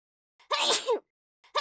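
A single close, loud human sneeze: a brief sharp intake and then an explosive burst, alone against silence, with the start of another breath at the very end.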